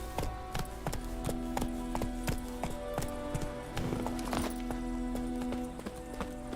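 Roach, a horse in The Witcher 3, gallops with rapid, even clip-clop hoofbeats close up, continuing steadily with a low tonal hum beneath.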